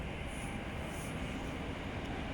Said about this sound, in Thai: ได้ยินเสียงรถไฟไหมเนี่ยแต่มองไม่เห็นนะ